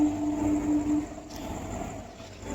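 A heavy new railway track rail rumbles and grinds steadily as it rolls out over rollers on a rail-carrying vehicle, with a brief high squeal at the start.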